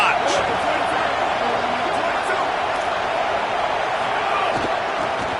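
A stadium crowd roars in a college football video game, Cal against UCLA, as a dense, steady wall of noise that stays loud and full throughout.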